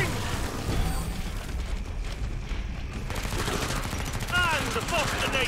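Rapid bursts of gunfire from the video game Killing Floor 2, dense and continuous through the clip, with sharp shot transients layered over game noise and brief high whistling effects near the end.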